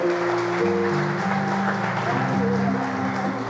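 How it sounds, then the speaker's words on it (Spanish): A church congregation claps together in sustained, dense applause, with voices and sustained musical tones mixed in beneath the steady clapping throughout. "Damos un aplauso al Señor"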